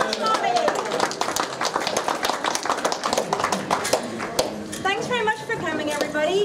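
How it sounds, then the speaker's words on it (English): Audience at a book launch for 'Song of the Slums' claps in a dense, steady round of applause, with voices talking and calling out over it and a clear spoken voice emerging near the end. "we have a round of applause for the lovely"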